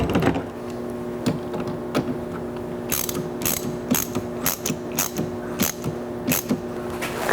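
A ratchet wrench clicks in rapid bursts while tightening a nut during installation of a Firestone air bag suspension kit on a vehicle, close and alone, with quicker, sharper strokes in the second half.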